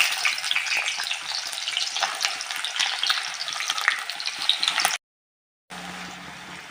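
Sliced onions sizzle in hot mustard oil in a wok for a potato and meat curry, giving a close, steady, crackling fry that cuts out briefly and then returns more softly.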